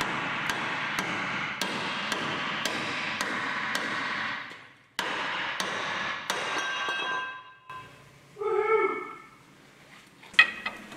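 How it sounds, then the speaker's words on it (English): Metal hammer blows strike off the spring hangers on the front end of an old car being stripped for an RV transporter conversion, with sharp, ringing, evenly spaced clanks in two bursts and a few scattered knocks afterward. "Lots of hammers."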